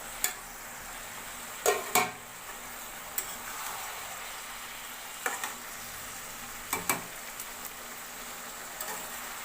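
Soybean chunks frying with a steady, soft sizzle in a pan, broken by a few sharp scraping knocks as they are stirred, close and without speech.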